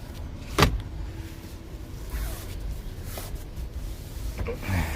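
The sunroof motor of a 2019 Jeep Grand Cherokee Limited runs inside the cabin: a sharp thunk, then a quiet, steady electric whir, with light clicks near the end.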